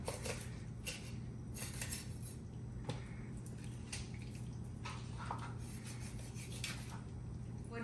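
A fresh raw chicken is cut into pieces with a knife, giving quiet, repeated scraping and rubbing strokes along with light clinks of the blade against a hard surface.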